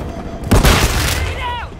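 Gunfire in Modern Warfare 3: a heavy, booming burst of shots that erupts suddenly and then rolls into a sustained rumble, with a shouting voice layered over the combat noise.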